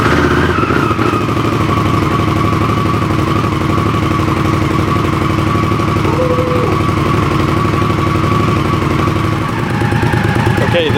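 Indian Scout motorcycle fitted with a new exhaust starts and settles into a steady, loud idle, its engine note rumbling continuously up close for the whole stretch.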